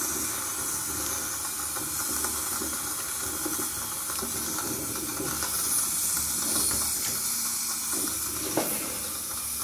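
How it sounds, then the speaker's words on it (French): Steam hissing out of a water pipe being heated with a blowtorch for brazing during a plumbing repair, a steady, fairly loud broadband hiss lasting throughout with faint watery crackles and no talking. "On entend la vapeur d'eau qui sort du tuyau."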